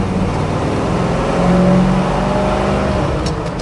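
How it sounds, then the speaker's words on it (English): A 1969 Chevrolet Nova SS accelerates hard nearby, its engine note rising as it pulls through the gears, loud and steady with no talking. "So again, first gear pulling out, second gear,"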